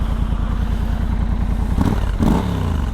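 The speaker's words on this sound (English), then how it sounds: "Let's get it started and go for a first ride." A 2022 Triumph Scrambler 1200 XE motorcycle engine idles with a steady, loud, close throbbing pulse, then fires up with a couple of sharp revs and a clattering burst before settling back into a rumbling idle.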